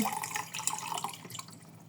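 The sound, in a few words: juice syrup being poured into water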